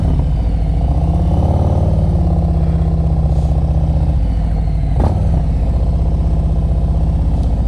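A motorcycle rolls slowly in first gear during slow-speed riding practice in Pennsylvania, its engine a steady low-pitched drone close by, with a sharp clatter midway.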